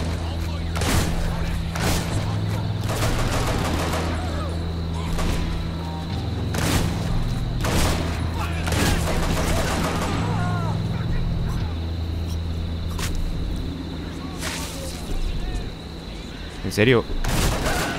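Scattered gunshots ring out in the Hatred video game at an irregular pace of single and paired cracks over a low game background hum, with someone talking over them.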